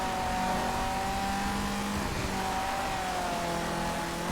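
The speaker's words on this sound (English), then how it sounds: "It's definitely easy to control for a rear-wheel drive car." Rear-wheel drive rally car engine in Colin McRae: DiRT, a steady droning rev holding pitch with slight rises and falls throughout, continuous and fairly loud with faint tire noise, no talk.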